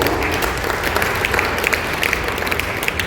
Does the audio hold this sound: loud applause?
yes